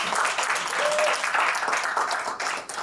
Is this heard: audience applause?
yes